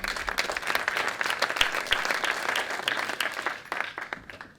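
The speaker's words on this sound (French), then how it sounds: "on peut tous applaudir" Warm, sustained applause from an audience at a national community meeting, many hands clapping densely for several seconds before thinning out near the end.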